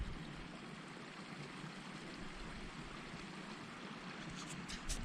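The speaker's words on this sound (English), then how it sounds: "I'm going to leave you with some sights and sounds of the river." A river flows in the rain at a bivouac camp, a faint, steady rushing of water with a few soft ticks near the end.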